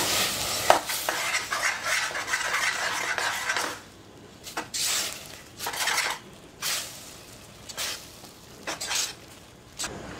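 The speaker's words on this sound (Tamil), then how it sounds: "ஸ்டவ்வை வந்து கம்மியில் வச்சுட்டு நல்லா மிக்ஸ் பண்ணி விட்டுக்கலாம்." Ragi flour dough mixed in a pan on a low stove, with vigorous, repeated scraping and clattering of a utensil against the pan in bursts and short pauses, close and steady.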